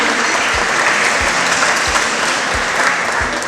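A crowd at a celebration for cancer survivors, doctors and a chef claps loudly and continuously, a thick unbroken roar of hands with faint periodic low thumps beneath.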